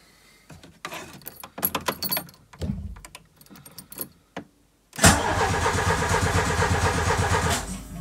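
A car engine with a Solex 32 IDS carburettor cranks without choke in a few rough, uneven bursts and pauses, then catches and settles into a loud, steady running roar.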